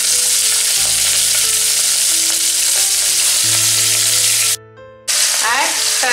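Mutton pieces frying in hot ghee in a pressure cooker give a loud, close, continuous sizzle, with a low steady hum underneath and a brief drop to near silence before the sizzling resumes.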